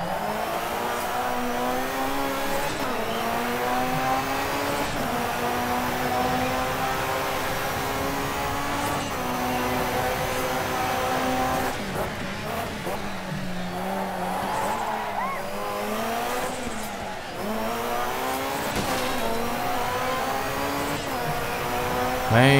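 Racing car in the video game Dirt 3 on the Monaco street circuit, its engine revving up and down through repeated gear changes with tire squeal and skids, loud and continuous for the whole stretch.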